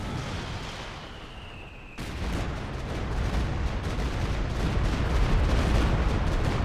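Calliope rocket artillery barrage in the video game Company of Heroes 2: after a faint whistling lead-in, a sudden loud onset of dense, continuous rocket impacts and explosions rolls on without pause, building steadily.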